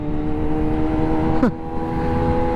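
A Kawasaki ZH2 motorcycle engine runs with a steady, loud idle hum, then gives one quick rev blip partway through before settling back to its even drone.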